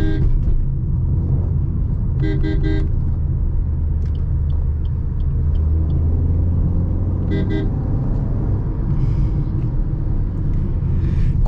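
A Maruti Ertiga CNG engine runs while driving, giving a constant low rumble inside the car; brief horn toots from surrounding traffic cut through twice.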